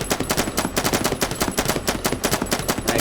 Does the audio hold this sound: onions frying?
no